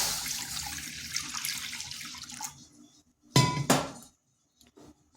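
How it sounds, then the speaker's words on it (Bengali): Water is poured from a tap or jug into a kadai for cooking aloo fulkopi; a steady broadband splash runs for about two and a half seconds, then stops, followed by a short loud burst of water and a couple of faint clinks. "এখানে কড়াইতে দিচ্ছি জল"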